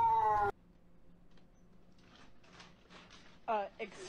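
A cat meows once loudly and close at the start, then after a quiet stretch gives two shorter, higher cries near the end.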